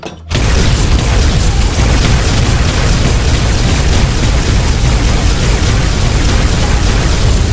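Sustained, loud gunfire and blasts from a Minecraft game, a dense unbroken barrage of booming shots that fills the whole stretch after a brief quiet start.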